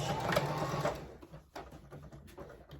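Sewing machine stitching across the top and bottom edges of a fabric face mask, a steady motor whir with fast needle chatter that slows and stops briefly, then runs again near and close.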